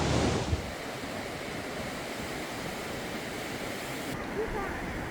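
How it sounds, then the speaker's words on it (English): Sea waves pound against a beachfront retaining wall at high tide in Hua Hin, Thailand, making a loud, continuous rushing wash with wind buffeting the microphone and a brief surge at the start. "You can sit here and watch the waves pounding in, but sometimes you're going to get wet."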